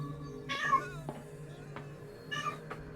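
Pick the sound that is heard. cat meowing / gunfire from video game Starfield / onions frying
cat meowing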